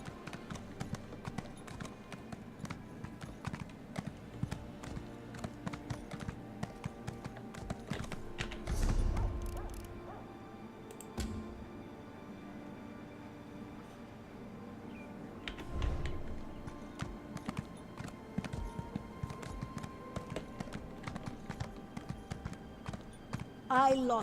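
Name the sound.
white horse hooves clip-clopping in the video game Elder Scrolls Online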